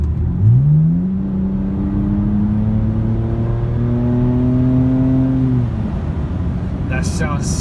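BMW engine with a muffler-delete exhaust revs up sharply and holds a loud, rising drone for several seconds before dropping back off, close and dominant, with a brief higher-pitched noise near the end.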